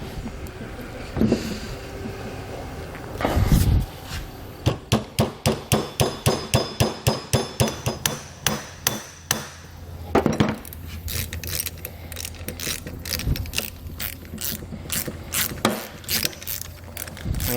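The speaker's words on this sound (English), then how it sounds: "we just took a flathead screwdriver and we just sort of began tapping down" A flathead screwdriver taps a bolt down on a vehicle base plate install, a steady run of about a dozen sharp metallic knocks in quick rhythm, then scattered clinks and handling noise close by.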